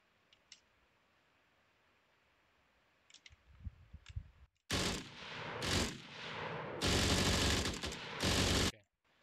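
An AI drone in an Unreal Engine 5 game fires at the player: a few faint clicks, then loud sustained bursts of rapid gunfire in several blocks, alone without talk.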